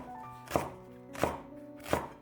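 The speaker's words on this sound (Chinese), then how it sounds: "再准备半截大葱切成片" Knife slicing half a green onion into pieces on a cutting board, three evenly spaced firm chops about two-thirds of a second apart, close and clear with no talking.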